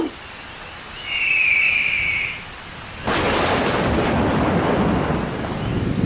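A cartoon storm hits a bird's nest with a steady wash of heavy rain. A brief high tone rings early, then a sharp thunderclap bursts in and the downpour continues loudly.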